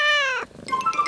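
A cat in a 1970s film lets out a loud, drawn-out meow with a clear, wavering pitch that lasts under half a second. It is followed by a quieter, scratchy mix of background sound.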